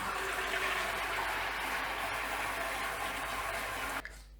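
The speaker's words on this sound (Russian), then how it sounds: "Дальше нужно несколько раз смыть воду в бачке." A toilet cistern being flushed after refilling while it is cleaned with vinegar; a loud, close rush of draining water runs steadily for about four seconds, then cuts off abruptly, with no voices.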